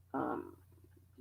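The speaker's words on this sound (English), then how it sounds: "that is my stomach growling" A person's stomach growls in a quiet room, one loud low gurgling rumble followed by fainter bubbling, with a soft hum underneath and a brief spoken filler.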